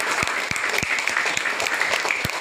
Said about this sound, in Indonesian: saya berikan lagi tepuk tangan sekali lagi.